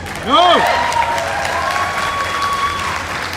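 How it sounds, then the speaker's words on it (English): Spectators at a Native dance troupe performance applaud a men's fancy dancer in a brief burst of clapping and crowd noise, with an announcer's voice carrying over it. "give him a round of applause out here"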